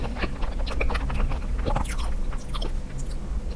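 Crunchy egg biscuit chewed close up at a snack tasting, a steady run of dry, crisp bites and crunches through the whole stretch, with no talk over it.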